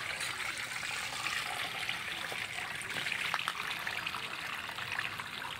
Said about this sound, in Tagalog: Tatagaling ko yung tubig.